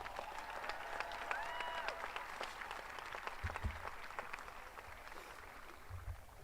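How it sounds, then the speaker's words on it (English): Graduates applaud at a high school graduation ceremony, a broad, distant-sounding clapping from a large crowd that holds steady throughout, faint and reverberant, with a few brief higher tones over it. "Give yourself a round of applause."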